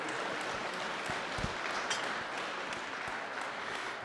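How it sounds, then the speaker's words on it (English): Steady, dense applause from a crowd at a curling final fills the whole stretch, even and sustained with no talking over it. "let's give a round of applause"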